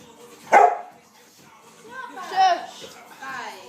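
Dogs bark, yip and whimper in short bursts at a home with a puppy. One sharp bark is followed by softer whiny yelps, fairly close.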